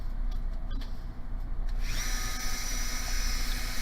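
A rotary burr grinds into a drilled hole in a sterling silver ring, a faint whirring tool that swells into a brighter, steady grind partway through.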